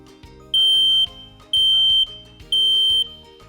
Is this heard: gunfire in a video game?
no